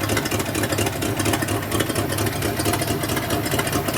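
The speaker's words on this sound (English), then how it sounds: "It's idling at 570 RPM" A V8 Mustang engine revived after 22 years idling at low RPM, a steady, close, rough mechanical rumble with a fast, even pulsing and no voices over it.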